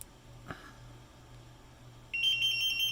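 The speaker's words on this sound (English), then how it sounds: "It'll beep and go into startup mode" A short click, then after a pause a gas detector's steady high electronic startup beep starts and continues, fairly loud against a quiet background.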